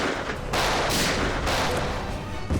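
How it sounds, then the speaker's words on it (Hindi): Gunfire in a crime drama scene: a loud, dense volley of rapid shots that runs almost continuously, with slight surges in the rattle and no voices. "बस कुछ ही मिनटों बाद धड़ाधड़ गोलियां चलनी शुरू हो गई।"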